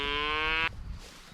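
A single cow gives one loud, close moo lasting under a second, then quiet farmyard background follows.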